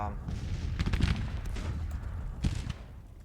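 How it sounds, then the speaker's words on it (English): Gunfire from Civil War-era troops in the strategy game Grand Tactician comes as muffled, rumbling volleys and scattered booming shots, several bursts in a row at moderate distance. "They are firing."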